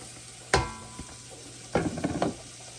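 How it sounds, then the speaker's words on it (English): Onions tipped into a pot of flour-coated stew meat, landing with a sharp clattering thump and then a second burst of clinking and stirring over a faint low sizzle. "Now I'm going to add the onions,"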